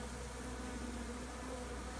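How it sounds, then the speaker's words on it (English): Bee swarm being collected in Hampshire, UK, in July, a steady dense buzzing hum that holds evenly and fairly faint for the whole stretch, with no voices. "The swarm of bees is so gentle."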